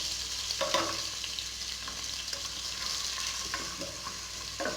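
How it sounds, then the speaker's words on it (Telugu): Onions fry in a pan for a Telugu chicken curry, a steady hiss with a few faint scraping strokes from a spoon, close and even, and no one speaking. "ఆనియన్స్ని కూడా కొద్దిగా ఫ్రై అవనిద్దాం"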